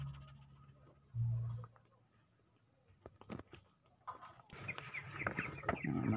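Backyard chickens at a rural home in the Philippines cluck in soft, scattered bursts, faint and fairly near, with a few brief rustles and taps between the calls.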